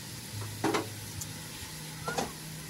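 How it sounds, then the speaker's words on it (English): Butter sizzling in a pan on a camp burner outdoors, a soft steady frying hiss close by with a couple of brief louder clatters from the pan or utensil. "So we'll throw a bit of fucking butter in that one."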